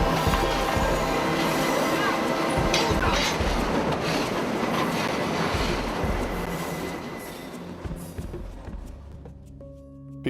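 A train rolls along railroad tracks near banana fields with a loud, continuous rumble, wheel squeals and clattering, then slowly fades as it moves away.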